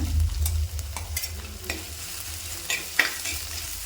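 Crushed ginger, garlic and green chillies fry in hot oil for a bitter gourd curry, a close sizzle with intermittent scraping and stirring clicks from a spoon in the pan.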